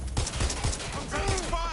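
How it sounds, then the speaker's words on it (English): Gunfire in Watch Dogs: Legion, a quick run of punchy shots at an uneven rhythm in a brief burst under shouting voices, followed by a ringing, whining tail. "Right, shots fired! Shots fired!"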